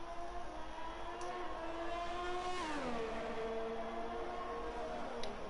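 An Alfa Romeo Formula 1 car in F1 2021 at Austria screams past with a high-revving engine whine. The pitch rises, then drops sharply as it shifts and passes by, with faint gear clicks.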